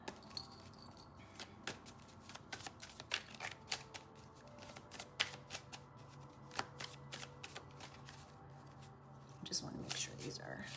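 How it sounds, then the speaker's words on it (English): Tarot cards shuffled by hand at a table, a quiet continuous stream of soft flicking and riffling clicks, close but low in level over faint background hum, with no talk. "Just want to make sure these are shuffled."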